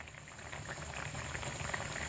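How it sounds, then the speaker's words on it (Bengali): Potato and paneer curry bubbling in a pan, a steady soft simmer with faint popping bubbles running continuously at low level, no voices. "এটাকে মোটামুটি দুই থেকে তিন মিনিট মতো একটু ফুটিয়ে নিতে হবে"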